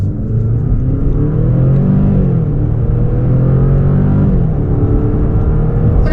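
Genesis G70 2.5T AWD accelerating hard in sport mode with paddle shifts, a loud, close engine roar rising in pitch and dropping at each shift, about three upshifts over several seconds, with no talking.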